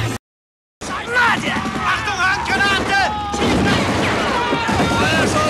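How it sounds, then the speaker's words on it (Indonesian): Gunfire and heavy blasts from a battle scene in the war film Stalingrad crackle and boom in dense, loud bursts after a short silent gap, with a voice speaking over the fighting. "Sampai akhirnya baku tembak pun terjadi"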